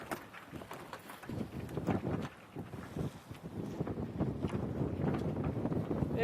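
A sail being lowered on a sailboat out on open water, with steady wind buffeting and irregular flapping and rattling bursts from canvas and rigging throughout.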